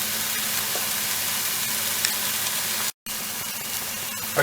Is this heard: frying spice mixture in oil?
yes